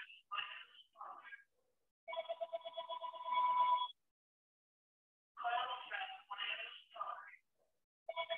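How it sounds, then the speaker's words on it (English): A telephone rings in repeated bursts during a quiet indoor qigong class, each ring a bright warbling trill separated by silent gaps, fairly clear and alone without talk. "the phone's ringing"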